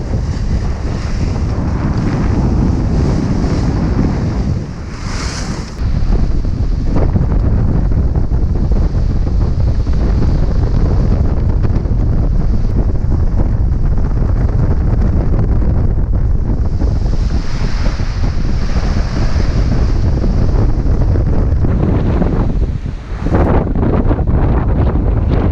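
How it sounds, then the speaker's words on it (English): Strong wind and rolling swell buffet a 54-foot Hallberg-Rassy sailing yacht on a fast, rolly passage to Les Saints, Guadeloupe, with loud continuous rushing, sloshing water and heavy microphone wind noise throughout. "We are having a fast but rolly sail going to the Saints here, occasionally hitting 10 knots like that"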